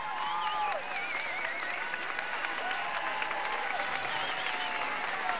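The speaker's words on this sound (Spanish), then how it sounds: "Démosle un aplauso al compañero Jorge Arriaza" A crowd at an outdoor political march in Venezuela applauds steadily at moderate distance, with raised voices and shouts woven through the clapping.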